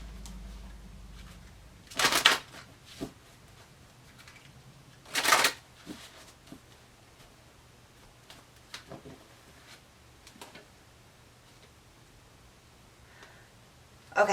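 Archangel Oracle cards being shuffled by hand in a quiet room, with two short, crisp riffling bursts and soft scattered taps and shuffles of the deck between them.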